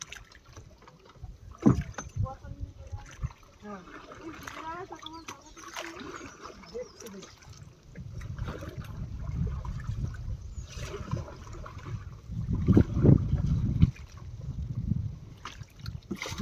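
Newly bought wooden boat on the water being tied up with a long rope; soft splashes and lapping with occasional knocks against the hull, fairly quiet, under people calling to each other.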